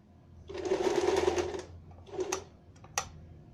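A sewing machine runs a straight stitch along the side slit of a fabric skirt: one steady whirring burst of about a second, then a shorter run, with light mechanical clicks between.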